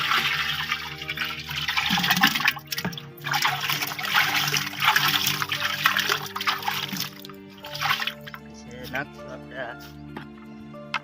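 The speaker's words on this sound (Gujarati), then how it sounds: "આ સીણાનો લોટ ઓગાળ નાખ્યો પાણી નાખી દઈશું આ બેરલમાં" Water splashes and trickles into a barrel holding dissolved gram flour for a farm jeevamrut mix. The pouring runs on at moderate loudness while someone talks over it.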